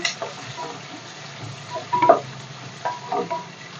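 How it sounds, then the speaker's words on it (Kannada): Thickly cut onions and green chilies frying in a pan, with a steady soft sizzle throughout and a few louder bursts of stirring and scraping around the middle and near the end, close by, with no talking. "ದಪ್ಪದ 2 ಈರುಳ್ಳಿ, ಒಂದು 4 ಹಸಿಮೆಣಸಿನ್ಕಾಯಿ ಕಟ್ ಮಾಡಿಕೊಂಡಿದ್ದೀನಿ, ಅದು ಹಾಕ್ತಾಯಿದ್ದೀನಿ. ಫ್ರೈ ಮಾಡ್ಕೊಳ್ಳಿ ಚೆನ್ನಾಗಿ."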